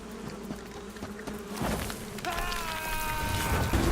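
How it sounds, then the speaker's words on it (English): A swarm of bees buzzing in the video game Metal Gear Solid 3: Snake Eater, a dense steady drone that swells midway and holds, loud and close with no speech. "you're interrupted by a swarm of bees"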